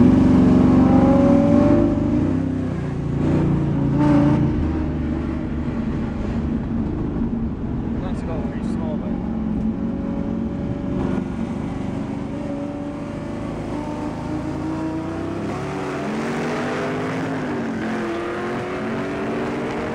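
Turbocharged Pontiac GTO at full boost in a ride-along drag race at Powercruise, Brainerd International Raceway, a loud continuous engine roar heard from inside the car, strong at first then holding steady with rising pitch sweeps as it accelerates.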